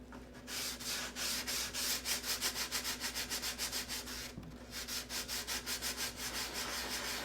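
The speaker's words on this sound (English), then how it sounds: "harden it up so that I can sand it without digging out the wood" Wood being sanded by hand before dope is applied to harden it, heard as a close, steady run of rhythmic rubbing strokes, with a brief pause midway before the back-and-forth scraping resumes alone.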